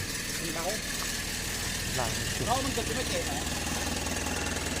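A rice harvester engine runs on a road at the first harvest of the year, a steady mid-pitched chugging with a low rumble, while someone talks over it.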